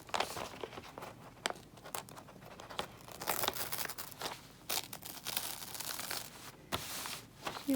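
Pieces of a sunflower craft peeled off by hand, heard as soft, close tearing, crinkling and rustling that comes in uneven bursts and stays faint throughout.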